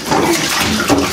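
Water splashed and poured over a young child's head while rinsing his hair in a bath, a brief close wet slosh with continuous trickling.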